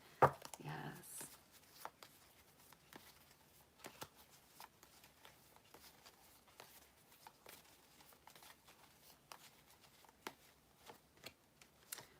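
Spirit Animal Tarot cards are shuffled in soft, quick riffles and taps, with one louder flurry at the start followed by faint intermittent card sounds and quiet talk underneath.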